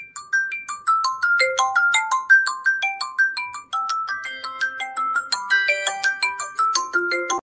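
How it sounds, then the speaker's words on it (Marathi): A mobile phone's tinkling melodic ringtone plays loud and close for several seconds, signalling an incoming call. "फोन आला मला"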